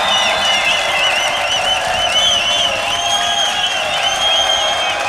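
Crowd at a Grand Beatbox Loopstation Battle cheering, whooping and applauding, a dense, loud, continuous roar with shrill whistles and shouts riding on top throughout.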